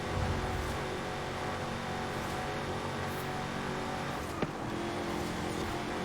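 A 1969 Ford Mustang Boss 302 A-class street tune races in Forza Horizon 5, its engine droning loud and sustained throughout, with one sharp thump or impact near the end.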